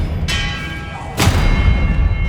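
Expelliarmus disarming spell cast in Hogwarts Legacy: two sudden, loud, shimmering bursts with a ringing, bell-like tone, the second heavier, over a low background rumble.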